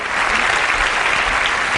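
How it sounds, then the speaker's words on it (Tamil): Loud, dense applause from an audience fills the space for a couple of seconds, steady and close, with no voices over it. "உங்கள் பொண்ணால் இன்னைக்கு இவ்வளோ பெரிய கைத்தட்டு உங்களுக்கு கிடச்சிருக்கு"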